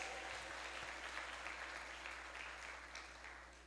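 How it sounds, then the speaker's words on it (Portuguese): A church congregation claps steadily in sustained applause, dense and even, slowly fading slightly toward the end, with no talking over it. "confirme com um aplauso bem forte a Jesus Cristo, Filho de Deus."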